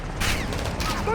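Gunfire in a military shooter video game on veteran difficulty, a couple of sharp rifle shots cracking out amid battle noise, loud and close, with a voice talking briefly alongside.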